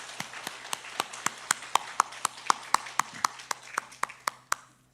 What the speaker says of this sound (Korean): 함께 인사드릴 때 박수로 격려해 주시기 바랍니다.